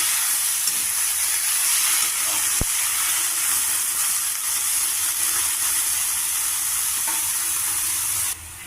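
Steady loud sizzling as cowpea pieces and tomato curry fry in a pan and get stirred, a continuous hiss running alone with a single faint clink partway through.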